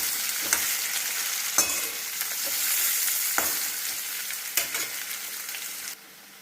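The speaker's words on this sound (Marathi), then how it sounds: "2 छोटे बटाटे त्याचे पातळ काप घालायचे आहेत व व्यवस्थित हलवून परतून घ्यायचं आहे" Thin slices of potato fry loudly in a pan, a continuous close sizzle punctuated by about half a dozen sharp spatula scrapes as they are turned, with no voices.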